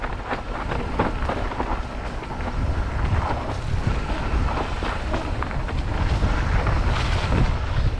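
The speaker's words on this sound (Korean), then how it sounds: "아유 바람 많은가." Strong wind roars continuously across the microphone during a run on Gwanggyosan mountain, a loud broadband rush with gusty swells and no talk.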